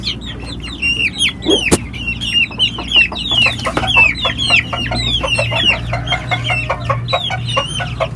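Guinea fowl clucking as they peck at feed: a busy, close flock giving quick, chattering calls that tumble over one another without pause, with a faint low hum behind.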